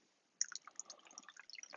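Homemade hand sanitizer gel pours into a bottle with soft, faint wet glugs and drips, irregular and close.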